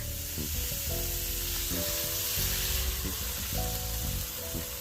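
Shrimp and squid frying with garlic in a pan over medium heat, a steady close sizzle running the whole way under a continuous bed of hiss.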